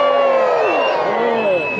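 An outdoor crowd at a Dickens holiday festival in Fayetteville, North Carolina cheers for the United States Navy, a loud, steady wash of many voices whooping and shouting together.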